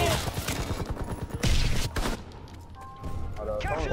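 Rapid bursts of gunfire and thudding impacts fill a Call of Duty WW2 match, loud and close, mixed with excited voices of players talking over the shooting.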